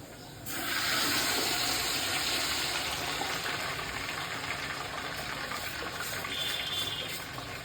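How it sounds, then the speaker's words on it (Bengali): Uncooked rice poured into a pot for pulao makes a steady, close rushing pour that starts abruptly and runs on continuously without a break to the end. "এখন আমরা ঢেলে দিব চাল।"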